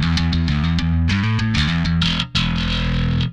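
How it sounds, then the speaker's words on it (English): Bass guitar through a Darkglass distortion pedal with the blend turned fully to the distorted signal, a short loud riff of fuzzy, buzzing low notes with a quick break before a final sustained note. "To me, that sounds like a much more usable distortion."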